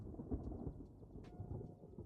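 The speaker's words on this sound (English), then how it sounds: "As he went out, there was a clap of thunder" A distant clap of thunder rolls low and steady with a soft rain-like hiss, faint and alone, as a storm effect.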